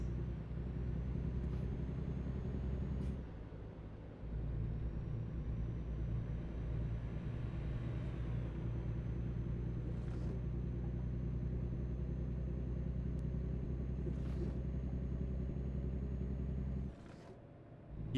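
A Peterbilt 579 truck's diesel engine rumbles steadily and close for a long stretch, a deep harmonic drone with a brief dip partway through and occasional faint clicks over the idle.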